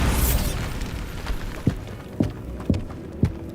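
A Bombarda spell blast in Hogwarts Legacy, a rumbling explosion fading out, followed by several sharp thudding impacts spaced evenly at moderate volume.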